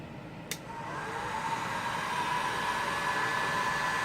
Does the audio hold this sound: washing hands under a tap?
no